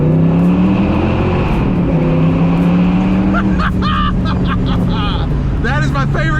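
A 30-year-old Ford Foxbody hatchback drones along through a tunnel, its engine note loud and echoing with a slowly shifting pitch, while talk breaks in over the engine in the second half.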